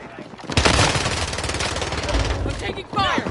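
Rapid gunfire from a Warzone battle royale match, dense bursts of automatic shots running almost continuously, loud and close, with game radio chatter and voices mixed in.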